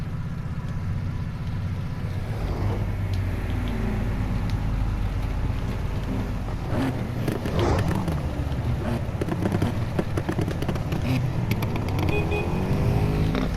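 A Porsche RSR racing car in Need for Speed Heat, its engine droning steadily and then rising and falling through gear changes as it drives fast, loud and continuous with no talk.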